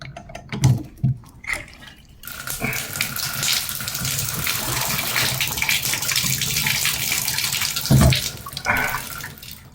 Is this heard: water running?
yes